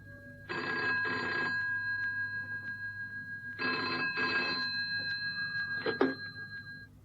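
A telephone on a direct office line rings in a vintage radio drama, sounding as three separate bursts of double rings, the final one cut short by pickup.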